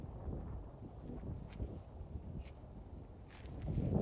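Strong, cold wind buffets an RC airplane flying field as a low, rumbling roar that swells and eases throughout, with a few faint higher gusts.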